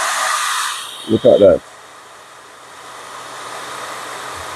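A 1.5 kW blow dryer powered from a 5 kW hybrid inverter's 110 V output gives a loud, steady airy whoosh that drops away after about a second, followed by a short spoken remark and quiet hum.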